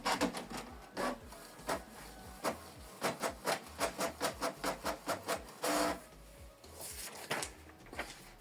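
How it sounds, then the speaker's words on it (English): A Canon Maxify GX2050 inkjet printer runs a test page with a rapid series of rhythmic mechanical clunks and whirs, paper-feed rasps and carriage pulses, close and steady with no talking. "Print test page"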